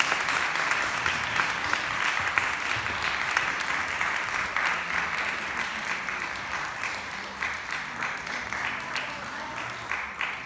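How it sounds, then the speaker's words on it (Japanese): Steady, moderately loud applause from a concert audience welcomes a performer onto the stage at a song, guitar and keyboard recital, continuing evenly for about ten seconds and thinning slightly toward the end. "拍手でお迎えください。"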